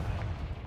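A Confringo fire blast spell explodes in Hogwarts Legacy, a short, heavy, low rumbling boom that fills the moment at close range.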